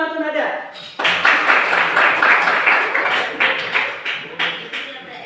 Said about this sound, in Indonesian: Tepuk tangan untuk Nada.